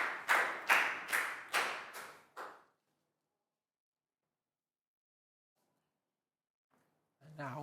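A small class claps in five or six rhythmic bursts, close and clear, then silence before a voice begins speaking near the end.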